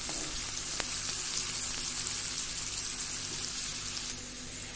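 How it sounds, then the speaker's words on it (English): Chopped onions frying in a pan to golden brown as the base for a cumin-pepper king fish green curry. A steady, even hiss of sizzling runs throughout with one faint tap, close and fairly loud, with no talking. "Added in the onions and I'm going to fry them till they are a little golden brown."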